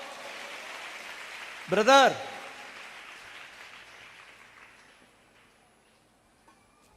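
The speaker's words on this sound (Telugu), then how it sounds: "కొట్టు చప్పట్లో." A church congregation claps together in a steady wash of applause that fades out soon after a voice cuts in briefly, leaving quieter room sound behind.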